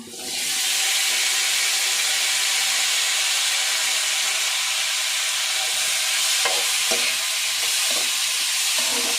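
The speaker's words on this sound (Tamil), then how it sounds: "வேக வச்ச காலிஃப்ளவரை சேர்த்துக்கலாங்க" Boiled cauliflower is stir-fried in a hot pan, making a loud, constant hissing sizzle with faint scraping from stirring partway through, no voices.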